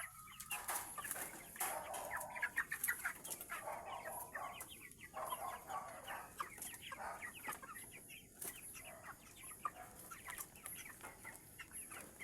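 Backyard flock of grown chickens raised at home, clucking busily and continuously with overlapping calls from several birds, moderately close with no talk.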